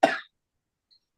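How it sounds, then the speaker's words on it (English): A single short cough bursts out near and loud at the start, then silence with only a faint tiny click after it. "I'm coughing."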